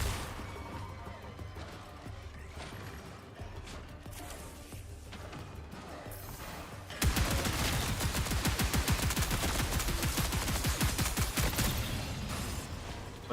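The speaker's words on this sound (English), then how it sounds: "they took a full clip of bullets" Rapid automatic gunfire from an NPC fight in a competitive shooter match, starting abruptly halfway through and rattling on loud and dense, with quieter game sounds before it.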